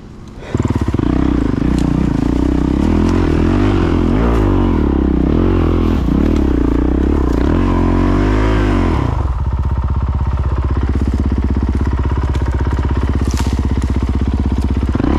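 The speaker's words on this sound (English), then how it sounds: "Trying to do the old Billy Bolt, kneel on the fucking bike and try to get some traction that way." Honda CRF450RL dual sport motorcycle climbing a hill on tight single track, its engine loud and close, revving hard with rising and falling pitch and clattering, then settling into a steadier lower drone after the throttle eases.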